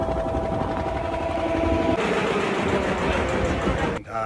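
A small motorised river trawler boat's engine runs with a steady, loud droning rumble, its tone shifting midway before a brief break near the end.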